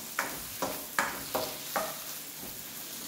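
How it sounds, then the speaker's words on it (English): Vegetables stir-frying in coconut milk, a soft sizzle with four or five evenly spaced stirring scrapes against the pan, close and fairly quiet. "That is stirring up, let that stir up a little bit more."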